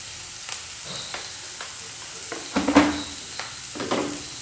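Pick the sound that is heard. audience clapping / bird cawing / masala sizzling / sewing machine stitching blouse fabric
masala sizzling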